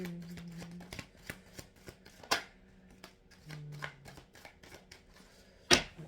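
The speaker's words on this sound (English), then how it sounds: "One more shuffle for future energies" A deck of tarot cards is shuffled close up in a series of soft riffling bursts and sharp snaps, followed by a crisp final slap, with only a faint voice in the background.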